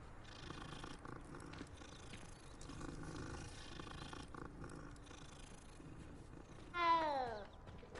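Video game cat from Hogwarts Legacy purring steadily over a busy game soundscape, then a single clear meow near the end.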